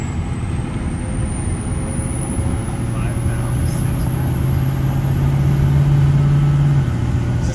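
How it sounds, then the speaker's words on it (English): A 2003 Ford 6.0 Powerstroke diesel engine idles with an open intake filter, a steady loud low rumble joined by a rising whine and turbo hiss partway through. "how loud would your truck be with an open filter is what we're really testing on"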